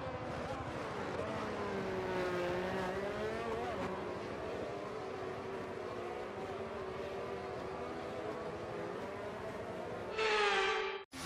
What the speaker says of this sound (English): The formation lap gets underway, and every driver will be looking to settle in for the race ahead